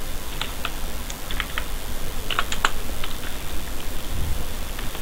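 Keys on a computer keyboard are tapped in light, irregular bursts while a C program is typed, close and fairly quiet over a constant background hiss.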